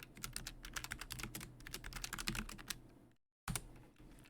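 Rapid, uneven key clatter from a small computer keyboard, close and steady for about three seconds, then a brief gap of silence before the tapping resumes.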